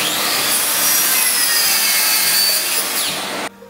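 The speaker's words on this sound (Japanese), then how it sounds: "今回使う丸ノコがこういうね、管がついてるやつですね。" A circular saw fitted with a dust extraction hose cuts through gypsum board, a loud, sustained high-pitched whine with a rasping bite that runs close up for over three seconds, then cuts off abruptly.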